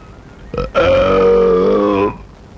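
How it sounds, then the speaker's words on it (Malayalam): An elderly man lets out a loud, unusual burp, a short grunt-like onset followed by a long, drawn-out, strongly voiced belch lasting over a second, close and alone, then trailing off into quiet. "നിങ്ങൾ ഇപ്പോൾ കേട്ട ഈ അസാധാരണമായ ഏമ്പക്കത്തിന്റെ ഉടമയാണ്"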